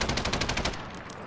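A short burst of rapid gunfire aimed at a helicopter in a PlayStation 4 video game, about eight quick shots that cut off and leave a fading tail of noise.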